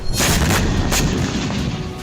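Loud, continuous rumbling blasts of rocket explosions over Tel Aviv, with heavy booming bursts layered close together, dense and unbroken throughout.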